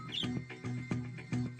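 Cartoon sound effect of birds chirping in quick repeated tweets over a short stretch of a light rhythmic music bed.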